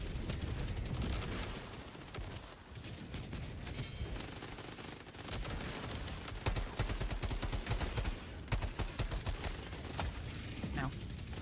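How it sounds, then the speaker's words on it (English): Orbital barrage explosions and gunfire in the video game Helldivers 2, a dense continuous roar of blasts and shots with sharp cracks throughout, loud and close. "Orbital barrage incoming."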